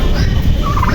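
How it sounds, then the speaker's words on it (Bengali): Several farmyard turkeys gobble together in a steady, close chorus, with a rising warbling call near the end over dense barnyard rustle. "ওর টার্কি, আমাদের টার্কিরা ছাইরা দেখাবো, এটা অনেক সুন্দর লাগে ছাড়লে।"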